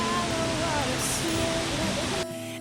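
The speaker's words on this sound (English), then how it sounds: "just listen to that waterfall" A Bavarian waterfall pours in a steady broadband rush, with soft melodic tones layered over it and the water noise easing slightly near the end.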